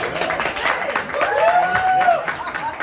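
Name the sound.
audience applause at a pitch competition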